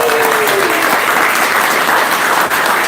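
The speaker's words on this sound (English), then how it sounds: "can we get a quick round of applause?" Audience at a charity tasting event applauding, a dense, loud, steady wash of clapping from a full room that continues throughout.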